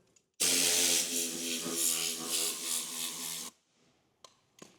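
An air compressor nozzle blasting air over the interior of a rare Mercedes GT R Pro during detailing, one loud sustained hissing burst of about three seconds that cuts off into near silence, followed by a couple of faint clicks.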